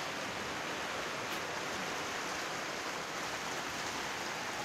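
Heavy rain with water pouring into an open house, a steady, dense rushing hiss that holds evenly throughout with no speech.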